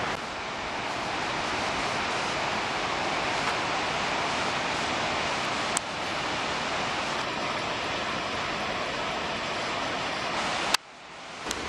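Surf rolls in at Newcastle Beach on Australia's east coast as a steady, broad roar of breaking waves, with some wind noise. Two brief knocks interrupt it, and the sound drops out just before the end.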